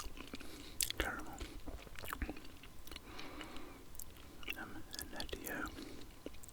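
Cheerios cereal is chewed close to the microphone in soft, irregular crunchy bites and mouth sounds, with quiet whispering woven in between.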